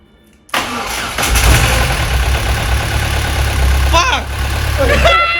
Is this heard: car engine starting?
yes